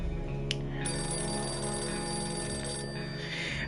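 A telephone ringing in the survival video game 60 Seconds! Reatomized, a steady electronic ring tone that continues unbroken and clear, with a brief click near the start and no voices over it.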